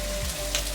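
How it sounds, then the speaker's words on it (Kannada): Onion, tomato and dry chillies frying in oil for a mutton curry, giving a soft, steady sizzle with faint crackles throughout a brief, fairly quiet moment, with no voices. "ಒಂದು 5 ನಿಮಿಷ ಚೆನ್ನಾಗಿ ಫ್ರೈ ಆಗಬೇಕು."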